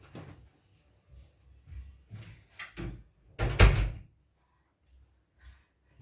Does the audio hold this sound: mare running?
no